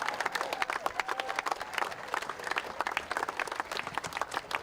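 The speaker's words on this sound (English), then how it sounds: "Big round of applause for John McGlashan College." A crowd applauds a rowing crew, John McGlashan College, at the Maadi Cup regatta after a quad race result: many hands clapping in a lively, uneven patter that stays strong throughout, moderately close.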